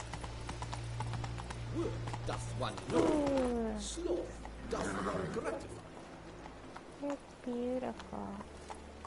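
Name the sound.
horse Roach hooves trotting in video game Witcher 3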